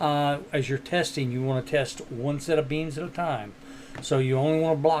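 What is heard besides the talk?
No distinct noise like a dog, phone or traffic.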